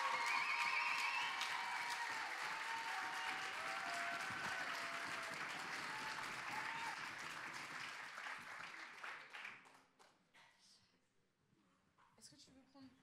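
A crowd at an eloquence contest final applauds a speaker with dense, loud clapping that holds for several seconds, then thins and fades out; a few voices come through near the end.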